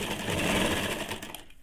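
Sewing machine stitching a half-inch side seam on a ladies' pant, a steady close whirring run that holds strong for most of the stretch before easing off at the end.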